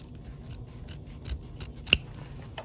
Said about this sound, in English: So I'm going to trim out all these seam allowances.